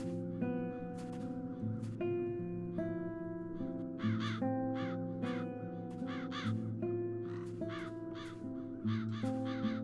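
Crows cawing in The Dark Eye: Chains of Satinav, several harsh caws in irregular bursts ringing out over a sustained musical score, clear and moderately near.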